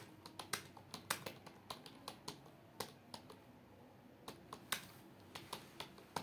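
Close-up computer keyboard typing during typing-test practice for a court or police head constable exam, with quick, irregular keystrokes clattering steadily throughout and no voices.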